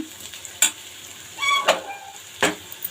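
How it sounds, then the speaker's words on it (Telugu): A spiced potato fry with salt, chili powder and garam masala is stirred in a pan, several distinct scraping strokes over a faint sizzle, close and moderately loud, no talking. "అంటే ఒక హాఫ్ స్పూను గరం మసాలా వేసుకుని ఇవన్నీ ఇప్పుడు బాగా కలిపేసుకుందాము"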